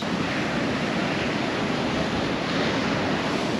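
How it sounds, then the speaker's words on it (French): Ocean waves break at Batu Bolong beach in Bali, a steady, loud wash of surf with some wind noise on the microphone and no voices. "il y a l'air d'y avoir quand même des bonnes vagues"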